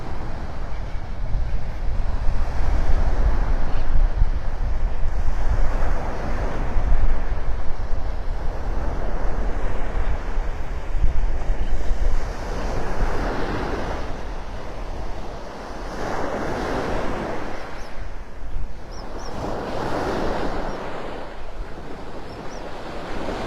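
Storm-churned surf rolls onto the Gulf beach at Delnor-Wiggins in North Naples, Florida, a loud continuous roar with waves surging in slow repeated swells under heavy wind buffeting.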